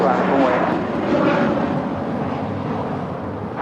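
A Korean Air airliner departs runway 25 right at LAX, a broad continuous jet roar rumbling at a distance and holding steady throughout.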